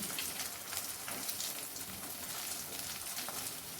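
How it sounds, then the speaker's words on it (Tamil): Mustard seeds and garlic sputter in hot oil with a steady, dense crackle and hiss, faint and continuous, with no pauses or voices. "எண்ணெய் சூடாகிடுச்சு, கடுகு போட போகிறோம்."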